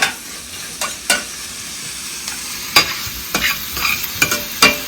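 Marinated chicken for tandoori is stirred as it fries in ghee in a pan. A soft sizzle runs underneath, and sharp spatula scrapes and clatters come at irregular intervals, close up and with no talking.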